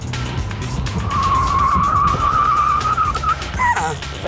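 A big luxury coupe brakes hard, its tires letting out a sustained loud squeal for about two seconds before it fades, over engine and road noise close by.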